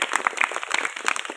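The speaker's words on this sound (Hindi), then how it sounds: "इनके लिए जोरदार ताली हो जानी चाहिए।" Audience applause breaks out for a schoolgirl after her recitation about Mahatma Gandhi, a dense burst of many hands clapping close up, steady and busy throughout with no talk over it.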